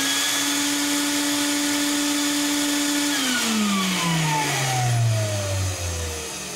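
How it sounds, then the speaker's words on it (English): The blower of an insulation blowing machine runs with a steady, loud motor whine, then winds down with a falling pitch as it slows. "So let's turn the blower on."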